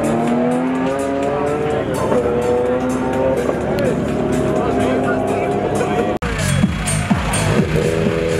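Turbocharged race cars, including a 2.5 turbo of about 400 horsepower and a 3.5 turbo Nissan, roar and rev loudly at a street race show in Osijek, with tire squeal and an announcer talking over the engines.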